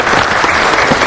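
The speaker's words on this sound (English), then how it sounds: "Let's give them a round of applause, folks." Audience applause at a city council meeting, a dense, steady clatter of many hands clapping together, loud and sustained without a break.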